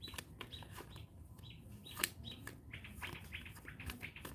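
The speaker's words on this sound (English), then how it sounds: "Do you hear the birds?" Birds outdoors chirp and tweet in quick, repeated high calls with a faint flutter of wings, moderately near and alone against soft background ambience.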